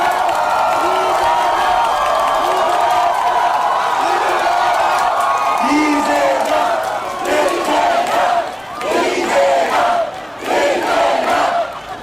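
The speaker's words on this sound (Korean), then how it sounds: "박수 부탁드리겠습니다." A large outdoor crowd at a presidential campaign rally in Geoje cheers, shouts and claps loudly and continuously, with a swelling roar of voices and scattered whoops and chants throughout.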